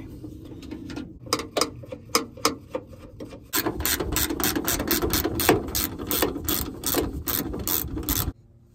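Ratchet wrench clicking close up while loosening the last bolt on a Honda Element driver door: scattered short bursts at first, then a long run of rapid, evenly spaced clicks that stops abruptly.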